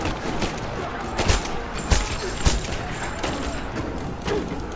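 Several sharp pistol gunshots crack out at irregular intervals over a constant noisy background, close-range weapon fire in Rise of the Tomb Raider.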